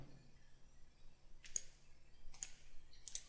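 Three quiet mouse clicks in AutoCAD, spaced roughly a second apart, each a short sharp tick in an otherwise near-silent room with a faint steady hum.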